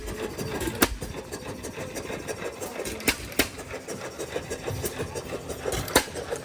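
A small old engine idling with a rough, uneven rattle, punctuated by a few sharp clacks and knocks, fairly close.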